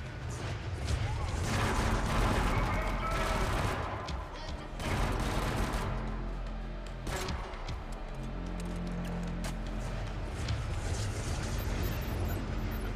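Gunfire in the shooter Killzone: Shadow Fall, a dense stretch of loud overlapping shots and bursts with sharp blasts standing out, continuous and close, mixed with game noise.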